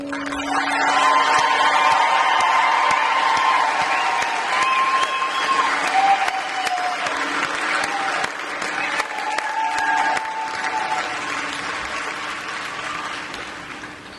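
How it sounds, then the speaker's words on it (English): Sustained audience applause at a U.S. Air Force 320th Training Squadron coin and retreat ceremony, a broad steady wash of clapping for military training instructors that holds strong for most of the stretch and slowly tapers. "Let's all give our Gator MTIs our appreciation and a round of applause"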